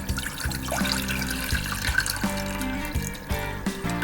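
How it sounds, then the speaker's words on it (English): Water pours steadily into a small saucepan for gravy, a bright continuous splashing and trickle close by, with no voices. "we're gonna add 2 cups of water to a small saucepan"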